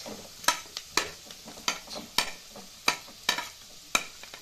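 Onion, capsicum and chilies frying in a pan for chili chicken, a low sizzle broken by regular sharp clanks of a spatula striking the pan about every half second, close and clear.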